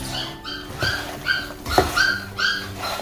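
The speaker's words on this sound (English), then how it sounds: "Sorry if you can hear puppies in the background," Several puppies yip, whimper and whine in short repeated bursts from a nearby room inside a small house, high-pitched cries coming every half second or so with brief pauses between.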